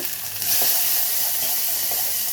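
Dried red chillies and garlic sizzle in hot oil in a pan, a bright, steady hiss with a soft bump as the ingredients drop in.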